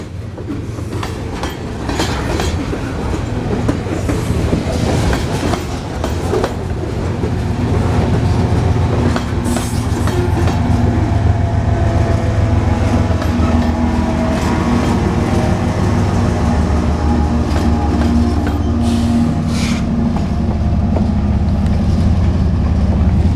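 A long freight train of about 100 hopper cars rolls steadily past nearby, a rear distributed-power locomotive in view, with a continuous heavy rumble, wheel clatter and metallic squeals, loud throughout.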